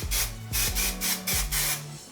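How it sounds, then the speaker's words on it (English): A can of store-bought hairspray hisses in several short, even bursts close by, each spray lasting about a quarter second, alone with no talking. "Now I'm just gonna spray just so I can kind of hold it in place."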